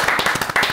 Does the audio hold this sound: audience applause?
yes